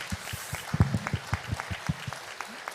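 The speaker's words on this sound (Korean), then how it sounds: "친구들 들어갈 때까지 박수 좀 쳐줍시다" Applause from a church congregation at a Christmas thanksgiving service, dense clapping with some louder claps, steady across a few seconds, with faint voices mixed in.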